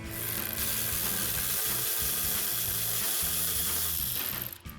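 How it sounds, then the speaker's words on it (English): A ratchet works the ignition coil bolts on a 2011-2016 Mustang GT, giving quick, rhythmic clicking bursts in short repeated strokes, close and clear, with no voice. "take your ratchet."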